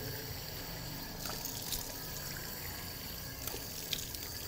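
A tap runs water at a low, steady flow during ablution before prayer, making a faint, continuous trickle and splash with no voices.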